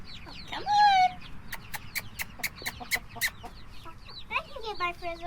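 Young Polish and frizzle chicks on a small farm chirp and peep in high, rising calls, with a rapid series of sharp clucks in the middle, close and fairly clear over a quiet outdoor background.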